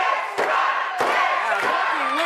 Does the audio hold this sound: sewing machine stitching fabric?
no